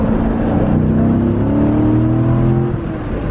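A Corvette engine with long-tube headers, X-pipe and active exhaust valves closed idles and revs moderately with a smooth, muffled exhaust note, rising slightly in pitch then settling, fairly close.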